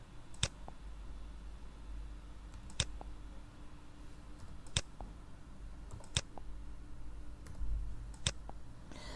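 Sparse keystrokes on a computer keyboard, about seven isolated sharp clicks spread a second or two apart over a faint steady room hum, with no voices.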